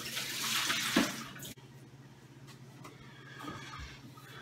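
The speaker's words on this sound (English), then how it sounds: "Just empty the water, rinse them out, try it again." Water poured out of a container while rinsing freshly harvested fiddleheads, a loud splashing gush in the opening second that cuts off, followed by quieter trickling and drips.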